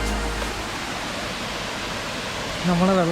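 Steady, broad rushing roar of a large waterfall at Anakulam fills the whole stretch, near and constant, with a voice starting to talk over it at the very end.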